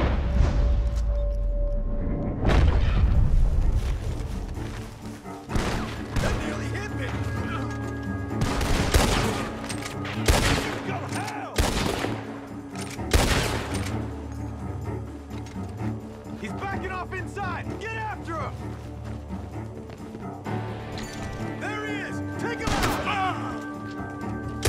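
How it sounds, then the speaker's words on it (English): Gunfire rings out from a barn in Red Dead Redemption 2, with repeated shots and bursts scattered across the scene, some close and loud, others farther off, while voices talk over the shooting. "The gunshots are coming from that barn!"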